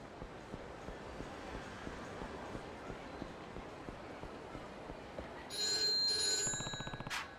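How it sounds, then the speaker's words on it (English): A payphone in the Yakuza 3 game rings out loud and close near the end, a couple of sharp electronic bursts that stand out over a steady low background murmur. "Payphone ringing."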